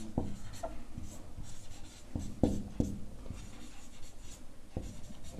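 Pen or pencil writing out a class 9 maths solution about a small cube, with soft scratchy strokes and periodic taps as letters form, close and fairly quiet, no voice.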